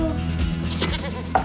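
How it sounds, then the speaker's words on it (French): A goat gives one loud, wavering bleat close by, holding steady for over a second before a brief sharper sound at the end. "Vous avez une chèvre?"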